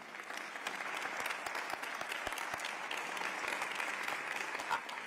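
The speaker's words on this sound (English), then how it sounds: "Let's give them a round of applause." A large assembly audience at a United Nations Habitat gathering claps steadily for officials and ministers, sustained applause from a hall crowd, moderately distant and even from start to finish.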